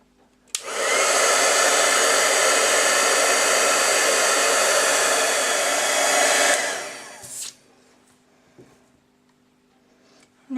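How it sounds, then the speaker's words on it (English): Craft heat tool blasting hot air while heat-embossing a star-spangled card, a loud steady roar starting abruptly, holding for about six seconds, then winding down to quiet with small handling sounds. "my heat tool, and we're just going to go ahead and heat it up"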